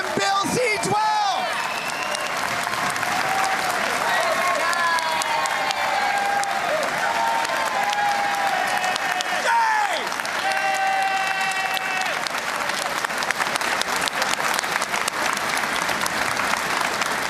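Convention delegates applaud steadily in a large hall, a dense sustained wash of clapping with scattered cheers and whoops, loud and continuous throughout, with voices mixed into the crowd noise.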